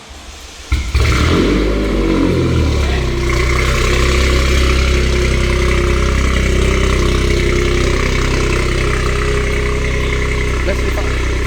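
A Toyota Yaris GR with a reinforced clutch cranks and fires up in a garage, then settles into a loud, steady idle with a throaty hum, while people talk nearby.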